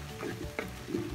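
Chicken gizzards fry in a hot pan for sisig, a soft continuous sizzle with light stirring scrapes close by, fairly quiet and without talk.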